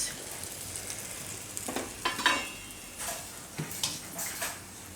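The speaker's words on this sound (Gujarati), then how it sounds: "તો આપણે થોડુંક નાખીને તેલ ચેક કરી લઈશું." A test piece of raw banana dough dropped into hot oil, sizzling and crackling with scattered sharp pops and bubbling bursts, fairly quiet and close, with no talking.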